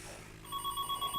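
A telephone starts ringing partway through, a steady electronic ring tone pulsing close and clear after a quiet moment with no speech.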